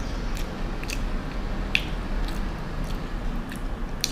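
A bite into a crispy-crusted blueberry pie from McDonald's, close soft crunching and squishy chewing with small crackles, steady and intimate with no talking.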